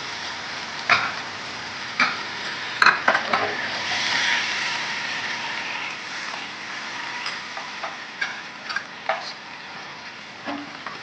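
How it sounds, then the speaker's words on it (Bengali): Water poured into fried, cooked-down masala for koi fish curry and stirred, a steady sizzle with scattered knocks and scrapes of the spoon against the pan, close and alone. "মশলাটা কষানো হয়ে গেছে, আমি এবার জল দিয়ে দিলাম"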